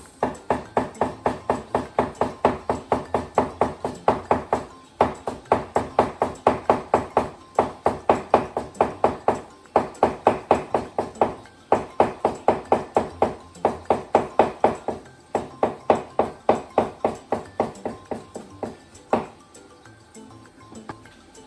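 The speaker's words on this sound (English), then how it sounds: "Fold it into half and make thin slices." Thin slicing of folded shiso (Japanese basil) leaves with a kitchen knife on a cutting board, a rapid, steady run of crisp chopping taps in bursts, close and clear, with no talking.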